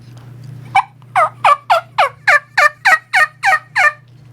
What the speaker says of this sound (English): I'm keying, hen calling